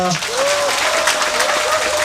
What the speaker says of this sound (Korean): 우리 큰 박수로 모십시다